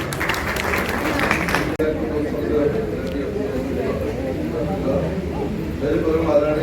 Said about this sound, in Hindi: सती जी जोरदार तालियों से एक बार थैंक यू